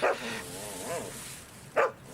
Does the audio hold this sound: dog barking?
yes